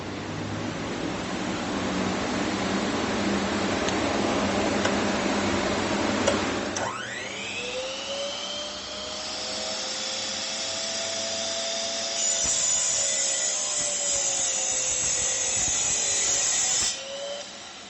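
A TECEPO 1600W 10-inch miter saw runs up and bites through MDF with a loud, steady whine, after a louder exhaust fan roars at maximum in the opening seconds.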